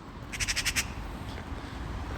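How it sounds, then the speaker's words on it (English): A crow flying nearby caws five times in quick succession, faint and somewhat distant over steady outdoor background noise. "this bird is flying with me"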